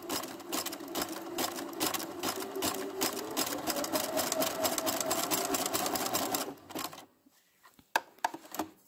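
Sewing machine stitches a zigzag along the edge of a dress fabric, running steadily and close for about seven seconds before stopping, followed by a few isolated clicks and taps.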